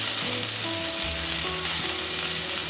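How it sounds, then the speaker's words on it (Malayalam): Finely chopped medium onion sautéing in hot coconut oil in a kadai with curry leaves makes a continuous, close sizzle, while steady tonal background music plays underneath. "സവാള ചേർത്തൊന്ന് നല്ലതുപോലെ വഴറ്റി കൊടുക്കണം."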